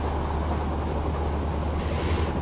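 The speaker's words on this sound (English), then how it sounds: "another train have crossed us at Tejas Express" A Tejas Express train rolls past alongside a moving train near Ambala Cantt, heard as a steady broadband rumble and rush of wheels and air, fairly loud and continuous with no voices.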